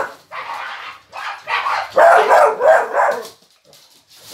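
A dog barks close and loud in a rapid series of about seven yaps, some short and some drawn out, with brief pauses between them.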